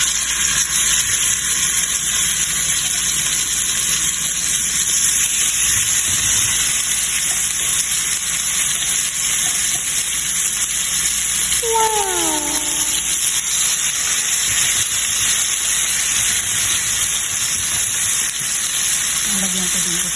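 Marinated steak sizzles in a hot pan with a loud, steady hiss that runs unbroken throughout, and a couple of brief squealing tones rise above it near the middle.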